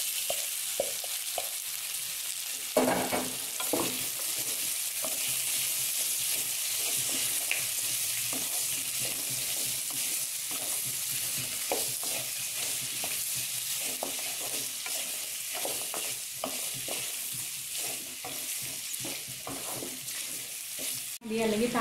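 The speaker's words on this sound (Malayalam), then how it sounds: "ഇനി നമുക്ക് ആ പോർക്ക് അതിനോട് ആഡ് ചെയ്ത് കൊടുക്കാം." Pork tossed into a pan of softened vegetables for pork touchings fries with a steady, close sizzle, broken by repeated scrapes and clatters of a spatula stirring throughout.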